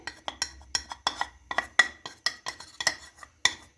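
Cornflour being stirred into plain flour in a bowl with a spoon, a quick series of crisp scraping and light clinking strokes in a steady rhythm, close and alone with no voices.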